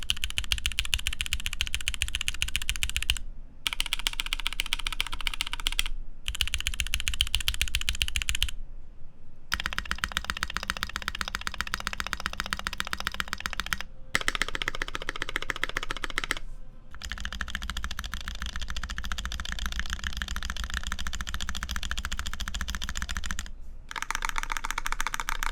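Close, steady typing on a mechanical keyboard with clacky switches, a dense run of crisp key clacks broken by a few brief pauses.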